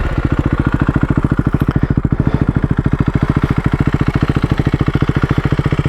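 A motorcycle engine idling after start-up, its exhaust pipe putting out a loud, close, steady rapid thumping beat that stays even throughout, with no talking.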